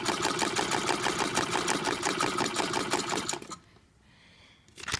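Antique circa-1910 Wertheim hand-cranked sewing machine running, a rapid, even mechanical clatter close up for over three seconds, then stopping into near silence before a short final burst.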